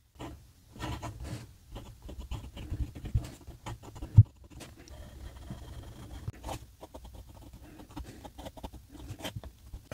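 Fine-point nib of a Shibui North pocket fountain pen scratching across paper, with steady soft scratchy strokes and brief pauses, close and quiet.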